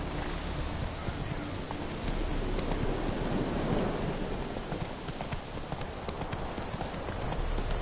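Rapid clip-clop of horse hooves in a video game over a steady roar of rain, dense and continuous throughout with faint rumbling underneath.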